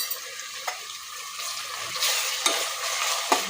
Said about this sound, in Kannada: 1 ಸ್ಪೂನು ಶುಂಠಿ ಬೆಳ್ಳುಳ್ಳಿ ಪೇಸ್ಟ್ ಹಾಕ್ಕೊಳ್ತಾ ಇದ್ದೀನಿ